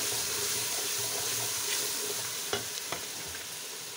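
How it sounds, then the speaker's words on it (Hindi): Masala of onion, tomato, red chilli, turmeric and salt frying in a pan, a steady close sizzle with a few sharp stirring clinks toward the end. "ये देखें जी, हमारा मसाला फ्राई हो रहा है।"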